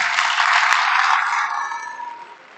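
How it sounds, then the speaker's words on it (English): A university audience gives a round of applause, a dense steady wash of many hands clapping that fades out gradually toward the end. "I think he deserves a round of applause"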